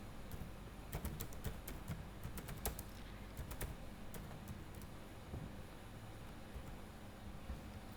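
Number keys tapped on a computer keyboard, a burst of quick close clicks in the first few seconds that thins to a few scattered presses over a low, steady background hiss.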